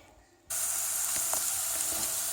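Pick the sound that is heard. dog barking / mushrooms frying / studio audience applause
mushrooms frying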